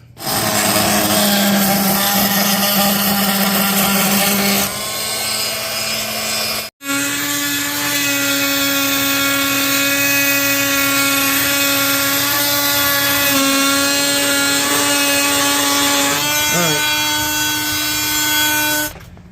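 Loud, steady power-tool whine with strong harmonic tones, briefly cutting out once then resuming and running continuously for a long stretch, with no talking.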